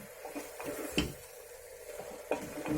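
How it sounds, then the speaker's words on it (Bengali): Mixed vegetables frying in a pan, with water poured in: soft sizzling under scattered spoon scrapes and clinks against the pan, two sharper knocks standing out, moderately quiet and close. "জল অ্যাড করে দিচ্ছি"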